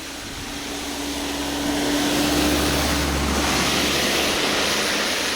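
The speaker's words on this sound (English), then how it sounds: "as you can hear, there are cars that come up here" A car passes along a road on a rainy night, its broad rushing tyre-and-engine noise swelling to a peak mid-clip and slowly fading, with steady rain hiss underneath and no voices.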